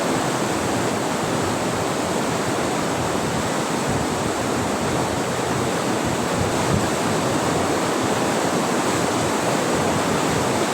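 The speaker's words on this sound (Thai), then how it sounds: "เสียงน้ำจะดังหน่อยนะครับ" Loud, steady rush of water and surf right behind a fishing spot at Pak Tha, Tha Ruea, a continuous broadband wash with no break and no voices.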